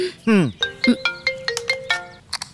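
A phone ringtone plays a bright, repeating electronic melody of short tonal beeps, close and clear, over faint background noise.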